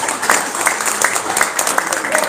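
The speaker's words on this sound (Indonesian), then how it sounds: "tepuk tangan" A crowd claps, scattered hand claps pattering steadily for a couple of seconds at moderate volume.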